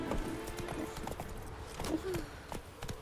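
A horse gallops in The Witcher 3 with fast, rhythmic clip-clop hoofbeats close up, a brief whinny partway through and soft game background sound underneath.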